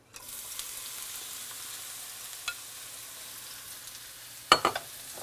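Eggplant fries in oil in a hot pan with a soft, even sizzle throughout. A couple of brief clatters come from the pan or utensil, with a louder burst of stirring near the end.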